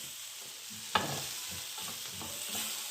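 Onions with paprika frying in a pan while being stirred, a steady close sizzle with a sharp utensil scrape near the start and soft stirring scrapes after, no voices.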